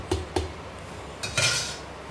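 A spoon mixing aamras (mango pulp) in a bowl gives a few light clinks and scrapes against the bowl: two quick taps, a pause, then a longer scraping clatter, with no voices.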